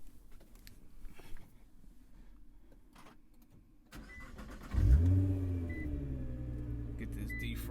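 A Nissan GT-R engine cranks and fires up with a sharp rising roar, then settles into a steady, loud idle hum after a quiet stretch of faint background noise.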